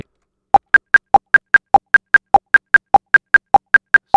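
A steady Reaper software metronome ticks at an even brisk pace, with a lower-pitched click marking the start of each group among higher clicks, alone and clear.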